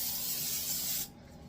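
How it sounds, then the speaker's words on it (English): A steady aerosol hiss of cooking spray sprayed onto breakfast taquitos runs for about a second, then cuts off abruptly, leaving quiet room tone. "So what you want to do is spray these down really good."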